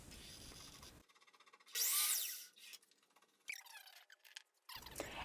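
Power tool cutting maple and walnut wood into 8-inch strips, a loud burst of cutting noise with short squeaks and scraping between quieter pauses.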